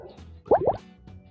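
A quick pair of bubbly plops from a shortened sound in Scratch, short and close, over a faint background hum.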